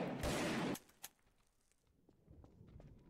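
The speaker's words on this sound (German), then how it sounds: "Die hat doch zwei Schüsse gemacht und dann nachgeladen." A loud, sustained double-barrel shotgun blast in the video game Trouble in Terrorist Town, followed by a second sharp crack, then quiet mechanical clicks and rattles like reloading.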